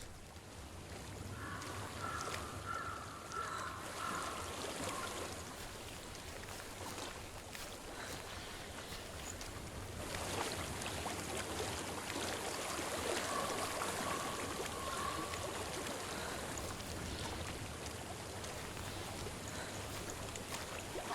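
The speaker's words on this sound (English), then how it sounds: "I hear water." Flowing stream water in the Hellblade video game makes a continuous, even rushing wash that swells a little midway and carries on alone, with no voices.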